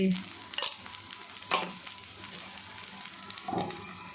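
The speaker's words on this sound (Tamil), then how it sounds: "இதை சுற்றி எண்ணெய் ஊற்றிடலாம்" Wheat flour egg uttapam frying on a hot pan as oil is poured around it, giving a moderate sizzle with a few brief sharper spatters and utensil clinks.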